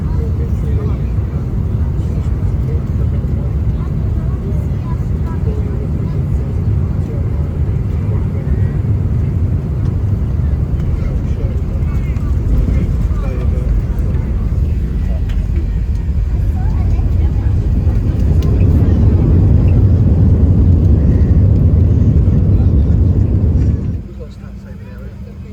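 Inside the economy cabin of an Emirates Airbus A380 landing at London Gatwick, a steady low engine and airflow roar swells louder toward the end before dropping away suddenly, with a voice talking over it.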